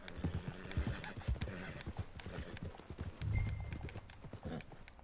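A ridden horse in Red Dead Redemption 2 clip-clops along at a steady trot, hoofbeats sharp and rhythmic, with speech over the hooves and a brief snort or neigh partway through.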